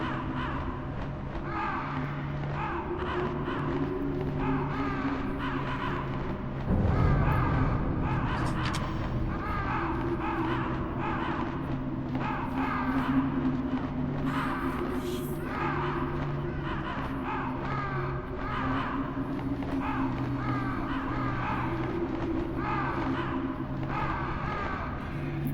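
Crows caw repeatedly in the Metal Gear Solid game, harsh rhythmic calls overlapping over a droning low background hum, fairly close and continuous, with a brief thump partway through.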